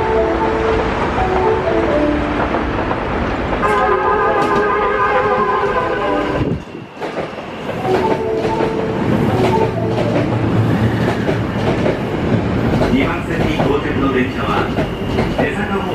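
A Minoh-line wrapped train rolls into a station platform with loud rumbling, clattering wheels and squealing, while an announcement plays over it.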